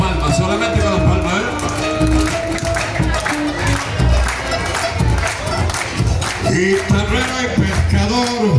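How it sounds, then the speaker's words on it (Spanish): Audience clapping along in time to an Argentine folk song, the rhythmic hand claps mixed with guitar and singing at a lively performance, filling the whole stretch at steady loudness. "Palmas, solamente con las palmas"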